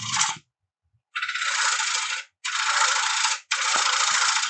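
A wooden platter spins on a wood lathe while a turning tool trues its top, giving loud, harsh scraping bursts: a short cut, then three long steady passes separated by brief pauses.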